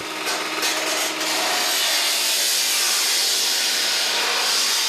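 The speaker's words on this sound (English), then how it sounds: "You'll take a metal circular saw and you'll make a V-type opening." Metal circular saw cutting an opening into a steel grain bin wall, a loud continuous harsh grinding rasp close by, slightly rougher at the start.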